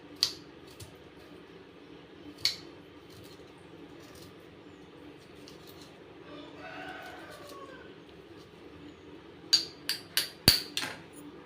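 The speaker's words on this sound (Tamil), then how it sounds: "பொடி பொடியாக நான் பூண்டு கட் பண்ணிக்கிறேன்" A knife chops garlic finely on a board while sweet corn soup is being prepared. A few isolated knocks come first, then a quick burst of about five close, crisp chops near the end over quiet room noise.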